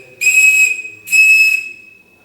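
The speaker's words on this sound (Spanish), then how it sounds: "Este de la derecha también es otro silbato, hecho de un cuerno de un corzo." Two long, shrill blasts from a whistle made of roe deer horn, loud and close, each held about half a second with a breathy edge and separated by a short gap.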